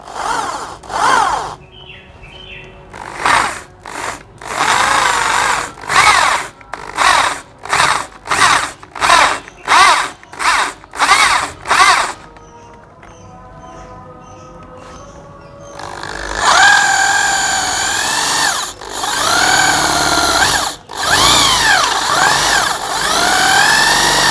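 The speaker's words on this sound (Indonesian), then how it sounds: "Ini kita bor secara perlahan." A power drill whines loudly in a series of short bursts, then runs in longer continuous stretches, grinding hard as it slowly bores a hole in metal for a stripped oil drain bolt thread.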